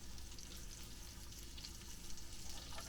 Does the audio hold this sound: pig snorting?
no